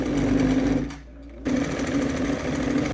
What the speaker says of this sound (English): So we're going to sew around, leaving a 1 centimeter seam allowance.